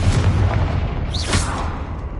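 A single booming Confringo fire-spell explosion in Hogwarts Legacy rolls out loud and low, with a brief whooshing flare partway through and a sustained rumble underneath.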